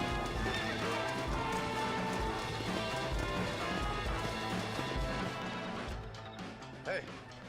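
In the video game Red Dead Redemption, hooves clop in a steady rhythm amid a dense mix of sound, and a horse whinnies briefly near the end; voices talk over it.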